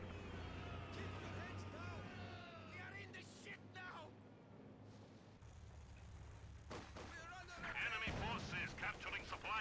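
Video game battle with gunfire and flamethrowers: muffled booms, bursts and roaring fire under continuous excited commentary, growing louder toward the end.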